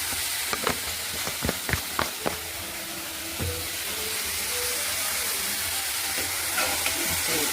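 Basale (Malabar spinach) sizzles in a hot pan with a steady frying hiss, a few sharp spoon knocks early on, close and moderately loud without speech.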